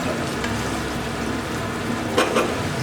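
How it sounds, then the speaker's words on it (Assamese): Spice masala fries in a pan over a medium flame, a steady close sizzle and crackle with a couple of brief stirring scrapes near the end. "মছলাটো ভালদৰে ভাজিব লাগিব অলপ ফ্লেমটো বেছি হাইটো দিব নালাগে অলপ মিডিয়াম ফ্লেমতে ৰাখিব"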